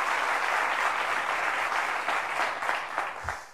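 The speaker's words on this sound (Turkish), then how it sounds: "Bir alkış alalım." Studio audience applauding on a New Year's special of the Turkish quiz show Who Wants to Be a Millionaire, a steady dense wash of clapping that tapers and thins toward the end.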